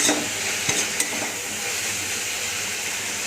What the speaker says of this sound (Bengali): বটবটিটা এখন ভাজছি, ভাজা ভাজা হয়ে গেলে এটা আলু পেঁয়াজ দিয়ে